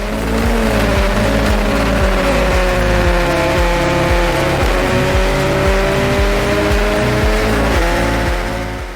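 Formula Ford race car lapping Donington Park, its engine heard from on board as a loud, sustained high-revving drone with rising and falling pitch through gear changes and a rapid pulsing throb underneath.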